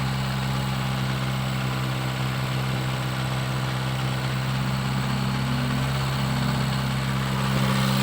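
A 2010 Honda Jazz engine holds steady at about 2000 RPM during a tune-up, giving a continuous close-up drone with a low hum throughout and no talk.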